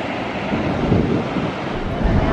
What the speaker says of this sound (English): And of course, the waves.